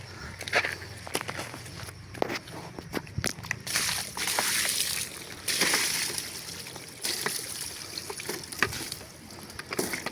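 River water sloshing and splashing close by as someone bathes in a flowing river out in the province, irregular splashes with steps and movement through the water, no talk.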